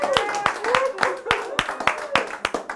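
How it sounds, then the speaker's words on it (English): Scattered hand clapping from a small group at a cooking class, a dozen or so sharp claps in uneven rhythm, fairly close, with voices murmuring underneath. "A round of applause."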